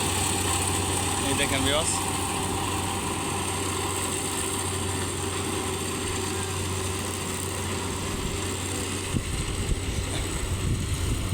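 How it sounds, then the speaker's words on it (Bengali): A paddy-cutting harvester engine runs steadily at a near idle-like drone while cutting rice in the field, continuous and fairly loud throughout, with someone talking over it. "এই মেশিন দিয়ে ধান কাটতেছে"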